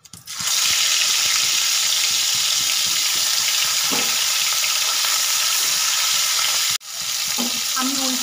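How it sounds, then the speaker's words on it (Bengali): Vola fish pieces sizzle loudly in hot oil in a wok, a dense, even, close-up hiss that runs almost the whole time with one brief dip before resuming. "এবার আমি মাছগুলোকে ভেজে নেব। দেব কড়াইতে তেল,"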